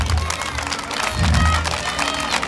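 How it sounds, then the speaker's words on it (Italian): A crowd at a village food festival applauds a row of mayors, with a dense, steady patter of clapping that swells slightly midway, mixed with background crowd noise and a voice over the top. "un applauso forte perché se lo meritano tutti quanti"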